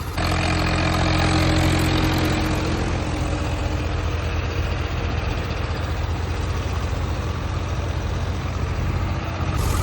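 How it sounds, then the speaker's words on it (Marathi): A heavy tractor engine roars continuously and loudly close by under a heavy trolley load, a dense, strained mechanical drone with no pauses. "दोन्ही ट्रॅक्टर डायरेक्ट दाड मारून राहिले"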